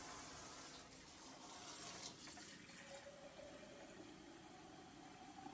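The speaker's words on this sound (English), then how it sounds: "I'm gonna use my pot filler here. This is hot water also." A kitchen pot filler tap runs hot water steadily into canning jars for peach pie filling, a continuous close splashing stream with slight shifts as the jars fill, no talk.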